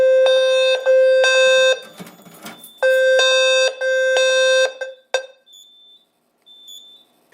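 A Simplex 4010 fire alarm panel with System Sensor devices blares in repeated loud tonal bursts, two pulses at a time with short gaps, then a final blip before a faint lingering beep.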